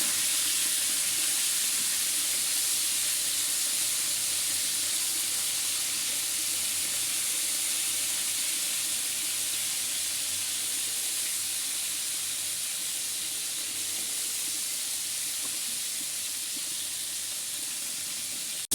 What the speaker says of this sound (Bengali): মাছগুলো প্রায় ভাজা হয়ে গিয়েছিল মাছগুলো বেশি ভাজবো না